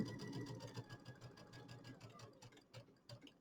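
A sewing machine stitches a quarter-inch seam while finishing a pillow with a flange, its needle running in a steady quick rhythm of repeated clicks and thumps, close and fairly quiet with no talking.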